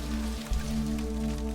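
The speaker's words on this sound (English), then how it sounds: "The rain taps gently on the stone." Gentle rain tapping on stone, a soft steady patter of drops heard quietly under a low hum.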